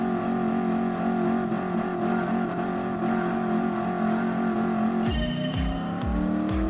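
Ford Mustang Mach 1 classic muscle car racing in Gran Turismo Sport, a loud sustained engine roar that revs and then surges through rapid gear shifts toward the end.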